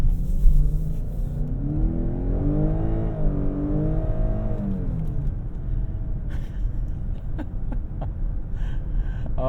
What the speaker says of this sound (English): I think there might be some fake engine noise pumped in as well.